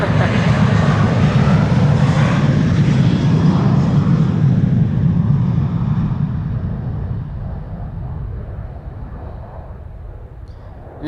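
A Ryanair airliner bound for Dublin at Amsterdam Schiphol Airport, its jet engines a loud, close broadband roar that slowly fades as the plane moves away.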